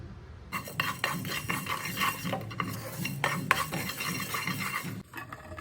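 Whole coriander seeds dry roasting in a pan, with a steady rattling, scraping stir of a spoon and seeds shifting against the metal, close and fairly quiet, no voices.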